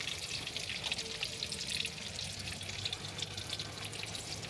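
Sliced jicama (singkamas) hits a hot frying pan with garlic, producing a steady, quiet sizzle and crackle of frying that stays even throughout with no talk.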